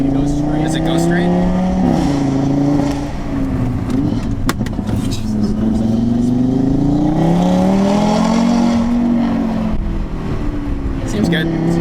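An Audi RS3 rally car, earlier broken, runs a quick hot lap, its engine droning loudly from the cabin as the pitch rises and falls with each shift and acceleration, over constant road and wind noise.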